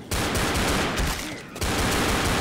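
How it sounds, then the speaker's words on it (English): Dense, loud video game gunfire from Left 4 Dead co-op play, including shotgun fire against zombies, roars almost nonstop, with a brief dip in the middle before it surges back. "I have a shotgun, so I'm just gonna try and keep him off the sides."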